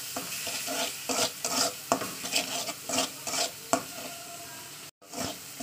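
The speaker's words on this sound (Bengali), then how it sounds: "ভালো করে আমি এটাকে কষিয়ে নেবো মশলা তেলের সঙ্গে" Spice paste cooking in oil for a tilapia curry with pointed gourd and potato, stirred hard: rhythmic scraping strokes over a continuous sizzle, close by, with a short break near the end and no speech.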